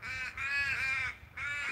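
Australian crow or raven cawing in a front yard, three drawn-out harsh nasal calls in a row, fairly close and clear over a quiet background.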